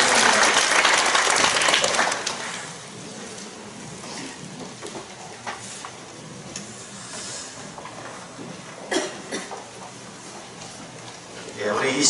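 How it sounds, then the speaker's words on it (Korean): A church congregation at a Korean ordination service breaks into loud applause that fades after about two seconds, followed by quieter room sounds and a brief spoken voice. "우리 뜨거운 박수 보내드리겠습니다"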